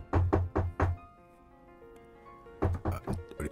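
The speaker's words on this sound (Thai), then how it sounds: "เสียงเคาะประตูดังขึ้นอีก" Knocking on a door comes in two sharp clusters of about four close, loud raps each, separated by a quiet stretch with a faint steady tonal background.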